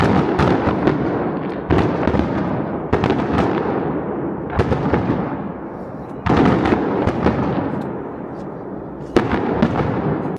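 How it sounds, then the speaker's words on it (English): A fireworks show bursts over ski slopes on Christmas Eve, with loud booming explosions every second or two, each trailing off into crackling echoes. "we arrived just in time to see the fireworks going on right over the slopes"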